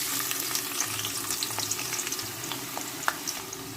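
Onions sizzle in hot oil with cloves, bay leaf and cinnamon for a chicken curry, a steady close frying crackle with light scraping of a spoon stirring through it and no voices.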